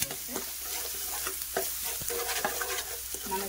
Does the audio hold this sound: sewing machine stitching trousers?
no